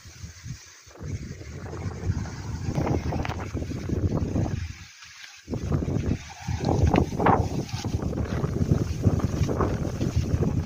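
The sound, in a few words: wind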